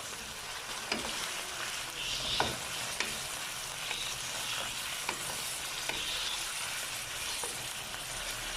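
Chicken frying on high flame in a karahi for charsi chicken karahi gives a continuous sizzle, broken by sharp spatula scrapes and taps about once a second.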